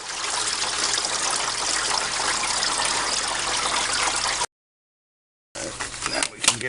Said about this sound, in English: And there goes a bunch more fluid.